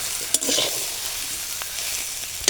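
Green jackfruit sizzles steadily in hot oil in a pan, with a few sharp clinks of stirring over the continuous frying hiss, and no one talking.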